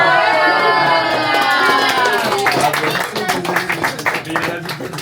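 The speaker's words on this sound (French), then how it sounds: "Toujours les hommes qu'on applaudit." A small group of people claps and cheers indoors, with voices calling out at first and then a run of rapid, close hand claps that grow more distinct toward the end.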